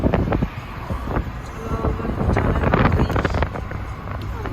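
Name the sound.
cold morning wind blowing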